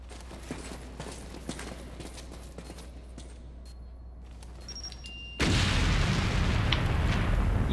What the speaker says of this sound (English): You had to back up that far for that tiny little pathetic explosion?